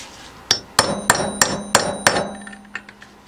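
Hammer blows on a chisel set in the groove of a CVT secondary pulley from a JF011E / RE0F10A transmission being rebuilt: six sharp metallic strikes in steady rhythm, close and loud, then a few lighter taps with ringing decay.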